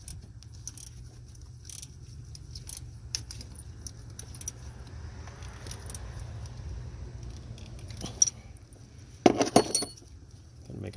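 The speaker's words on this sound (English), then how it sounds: "There's a little ratchet here" Small ratchet clicking while tightening a belt tensioner bolt on a 2006-2012 Toyota RAV4 2.5 four-cylinder engine, with sparse metallic clicks over a steady low hum and a louder clattering burst near the end.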